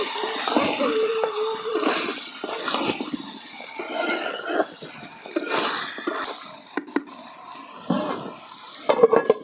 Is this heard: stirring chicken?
yes